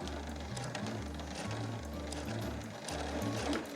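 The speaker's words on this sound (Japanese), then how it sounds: "最初のこの縫い目に2センチほど重ねながら縫っていきます" A sewing machine stitches a quilted tablet case of nubi quilting fabric in steady bursts, its motor hum running in short stop-start runs across the clip, close and fairly loud, with no talking.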